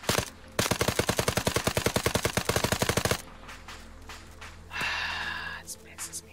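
Rapid automatic gunfire from the military shooter Arma rattles in a long, evenly spaced burst lasting a few seconds, followed by quieter ambient game sound and a brief hiss.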